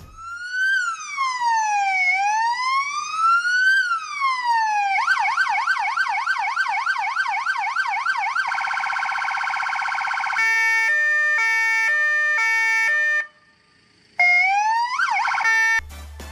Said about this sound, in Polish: A teraz sygnalizacja dźwiękowa